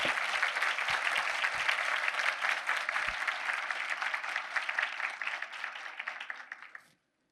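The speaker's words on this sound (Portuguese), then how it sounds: "Por gentileza, uma salva de palmas para ela" An audience at a talk show on women in the armed forces applauds a speaker, steady clapping from a medium room that gradually thins and stops abruptly near the end.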